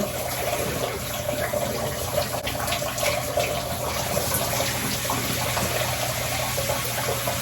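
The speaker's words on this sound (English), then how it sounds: "So I'm gonna rinse this off now." Water running steadily from a tap or shower while rinsing off during a self-care routine, a continuous close hiss and splash at moderate loudness, no talking.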